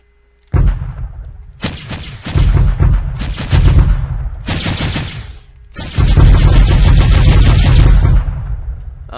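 Rapid bursts of gunfire-like bullet hit effects in a Unity space shooter game, several loud dense volleys separated by brief gaps, the last burst long and sustained, with no talk.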